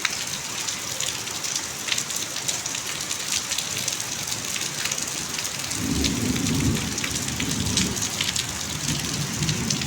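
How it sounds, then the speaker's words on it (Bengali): Steady rain pattering on surfaces in a rural homestead after a long dry spell, with a deep rumble of thunder rolling in partway through, continuous and fairly loud with no voices. "অনেক দিন পর বৃষ্টি নামলো।"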